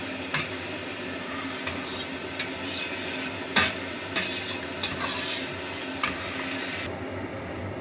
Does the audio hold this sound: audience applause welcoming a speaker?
no